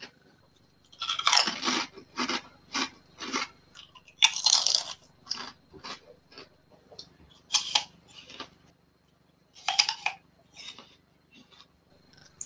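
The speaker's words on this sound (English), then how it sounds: "Today's ASMR Crunch is brought to you by Ruffles." Ruffles potato chips crunched up close in a rhythmic series of sharp, crisp bites and chews, with short quiet pauses between and no talking.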